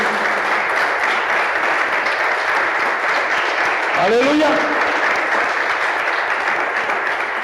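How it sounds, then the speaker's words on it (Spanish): A church congregation at a Spanish-language service claps in a dense, sustained wash of applause, while a voice calls out once partway through. "Denle un aplauso al Señor esta noche."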